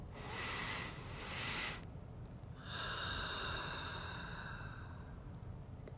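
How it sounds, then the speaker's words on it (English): Slow deep breathing in a guided breathing exercise, a long airy inhale followed by a sustained exhale with a faint whistling tone, close and quiet against soft background hiss. "Take a breath with me and just breathe in the moment."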